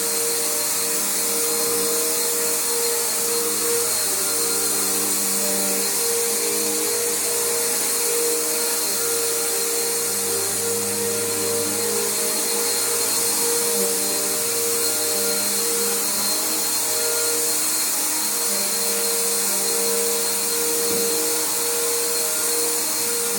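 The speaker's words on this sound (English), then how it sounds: "It's a really popular vacuum." A Bissell Powerforce bagged vacuum cleaner runs steadily on carpet, a loud continuous motor whine with a hissing airflow roar that barely changes from start to finish, close by and with no talking.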